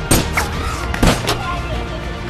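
Gunfire breaks out in a mall shootout scene, with a few loud sharp blasts, two strong ones near the start and another around the middle, ringing over a dense rumbling backdrop.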